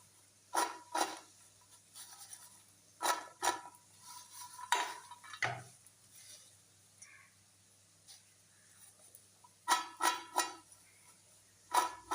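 Freshly fried, crispy French fries coated in spice are tossed by hand, making several separate, close, brittle rattling bursts with quiet pauses in between.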